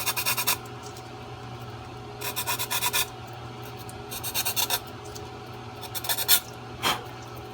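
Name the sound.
smoothing sharp fiberglass edge of circuit board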